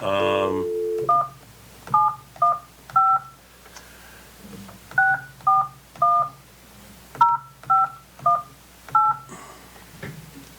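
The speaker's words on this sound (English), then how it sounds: "Please do not dial a 1 when dialing this number." A telephone number being dialed during a council meeting call: a string of about fourteen short touch-tone beeps in uneven clusters, clear and close, preceded by a brief dial tone, with faint room background.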